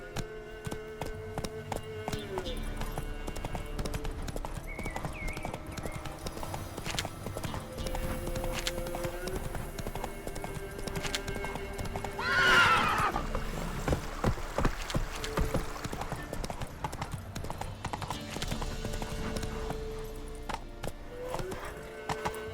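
Horse hooves clatter in a steady repeating rhythm as a horse rides along in The Witcher 3 game, with music and ambient sound underneath and a louder swell partway through.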